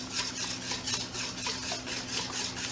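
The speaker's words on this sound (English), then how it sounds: "So I'm beating the eggs with my whisk" Eggs beaten with a whisk in a bowl, a soft, quick rhythmic scraping and swishing that repeats steadily in a short close burst, with no talking.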